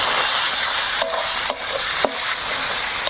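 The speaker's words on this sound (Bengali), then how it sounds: "এবার সব মশলায় একসঙ্গে ভালোভাবে কষি নিব" Ground cumin, coriander, dried red chilli paste, turmeric and salt sauté in a pan, a steady hiss of frying broken by a few distinct scrapes of the stirring spoon.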